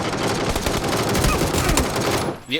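Rapid gunfire bursts in PUBG on the snowy Vikendi map, loud and dense for over two seconds before cutting off abruptly, no talk over it.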